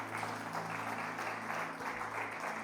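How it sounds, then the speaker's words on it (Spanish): A congregation applauds during a Spanish-language church service, giving a steady, even wash of many hands clapping together over a low background hum. "Vamos a ofrendar palmas al Señor con todo el corazón."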